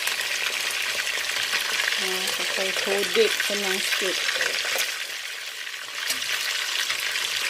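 Chicken pieces frying in hot oil in a home kitchen, a continuous loud sizzle and crackle throughout, with a person speaking over it and some stirring or utensil clatter.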